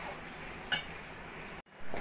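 Mashed bottle gourd leaves stirred in a pan over a low flame, a steady soft scraping and faint sizzle with one brief sharp clink and a short dropout near the end.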